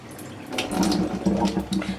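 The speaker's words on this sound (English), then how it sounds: "So you're just going to drain that." Rice washing water drains out of a bowl in a steady, close splashing pour that swells and eases in short surges, with no voices.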